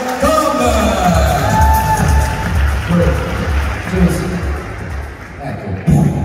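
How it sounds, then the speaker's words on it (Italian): An audience at an evening entertainment show in Playa de las Américas, Tenerife, claps and cheers in a steady wash of applause with scattered whoops and shouts, loud and continuous throughout. "Da voi, grande applauso, grande applauso, grande applauso, Tom!"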